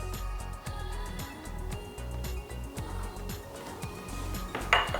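Ingredients being mixed in a bowl with a silicone pastry brush while cooking Hainanese chicken, a steady run of clinking, scraping strokes against the bowl at close range, with no one speaking.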